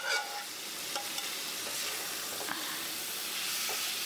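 Shredded chicken is stirred into masala frying in a pan: a steady, close sizzle and hiss, with soft scraping stirs repeating throughout and no voices.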